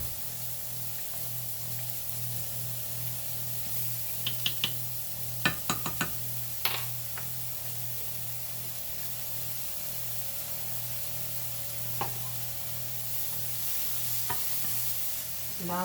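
Minced garlic sizzles softly in a pan alongside thinly sliced onion, with a steady low crackle broken by a few sharp clicks and scrapes of stirring, heard alone without talk.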